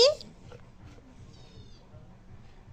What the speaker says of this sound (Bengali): মিয়াওটা ডাকছে